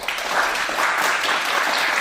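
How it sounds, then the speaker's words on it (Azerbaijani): Children clapping together in steady, continuous applause, close and fairly loud, with no talking over it. "Uşaqlar mənimizi alqışlayın"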